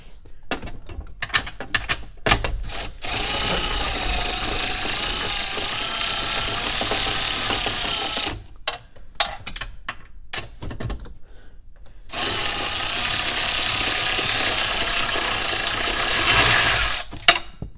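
A ratchet on a 10 mm extension works bolts out of a 2002 Chevy's driver-side blend door actuator, giving rapid buzzing clicks in two long bursts, close and loud, separated by brief pauses with scattered taps and handling noise.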